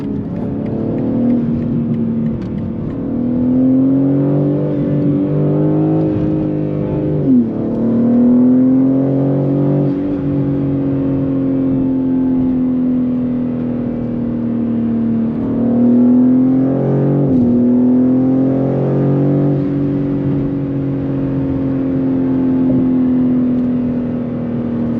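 Modified 500hp BMW G80 M3 driving on a bumpy road, its engine droning steadily from inside the cabin with rising and falling pitch as it shifts and accelerates, continuous and fairly loud throughout.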